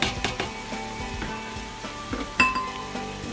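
Cranberries and bacon hit a hot pan with a loud, steady sizzle. Frying crackle is punctuated by scattered clinks and scraping stirs of a utensil against the pan.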